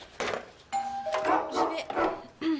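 A two-tone doorbell chimes, followed by a dog barking a few times nearby, and a person says a brief line in between.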